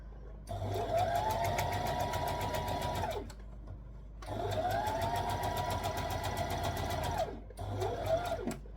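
Close, loud bursts of a sewing machine hemming a tee sleeve: two long runs of steady stitching separated by a pause for adjusting the fabric, then a shorter third burst.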